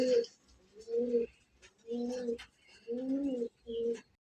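Local domestic pigeons cooing in a pigeon-selling setting, several close, rhythmic low coos in repeated bursts with short gaps, plus faint background noise.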